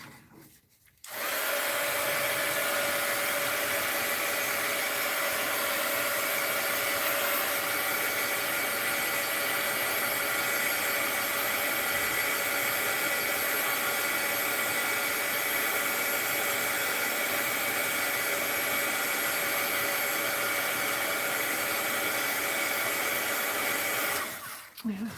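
A hair dryer drying a freshly painted doll, a loud steady whooshing drone that starts abruptly, runs unbroken for about twenty-four seconds and then cuts off.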